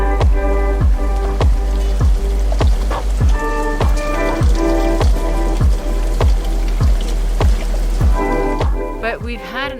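Rain falls on a sailboat moored in New Zealand, a steady loud patter with regular sharp drips striking close by, continuous and alone with no talk.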